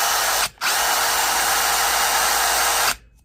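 A Dewalt cordless power tool, powered by a repaired 18-volt Dewalt battery, whirs loudly and steadily up close, breaks off briefly, then runs again for over two seconds before stopping.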